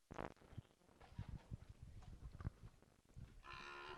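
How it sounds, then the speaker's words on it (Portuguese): Cows moo repeatedly at a cattle auction and bull fair, with several low calls close by over a busy livestock-pen background. "Vamos colocar as vacas aqui junto com eles agora, para a gente ver a condição corporal das vacas"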